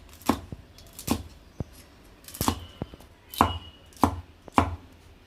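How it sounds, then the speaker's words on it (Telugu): Green chillies chopped into small pieces with a knife on a board for homemade egg puffs: about eight crisp, close knocks in an uneven rhythm, with no voices. "ఇప్పుడు పచ్చిమిరపకాయలు కూడా చిన్న చిన్న ముక్కల కింద కట్ చేసుకోవాలి"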